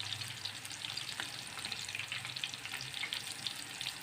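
Eggplant (talong) fries in a pan with a steady, fairly soft crackling sizzle and dense small pops, heard alone at close range.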